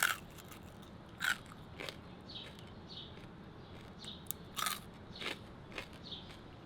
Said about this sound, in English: so we can actually hear the crunch we're dealing with here